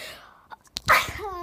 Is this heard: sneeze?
yes